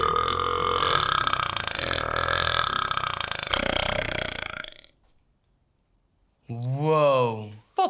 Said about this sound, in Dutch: Heb je er wel eens over nagedacht om mee te gaan doen aan het NK Boeren?